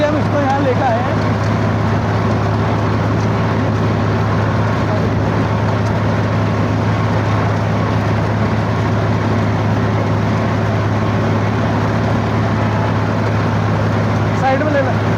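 A Swaraj tractor's diesel engine runs steadily with a constant low hum and drone, loud and close throughout, with talk faintly over it.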